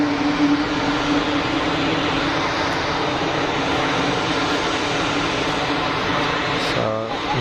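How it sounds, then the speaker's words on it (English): An easyJet Airbus A321 airliner taxis clear of the active runway at Geneva Airport, its engines giving a steady, loud, broadband roar that holds evenly throughout with no talk over it. "So easyJet just about to clear the active runway."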